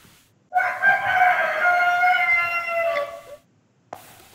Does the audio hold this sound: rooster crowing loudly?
yes